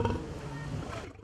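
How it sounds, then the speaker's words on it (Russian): An African lion at a zoo lets out a single deep, rough roar that is loud and close and fills the whole moment. "Африканский лев Алтай, гордость зоопарка"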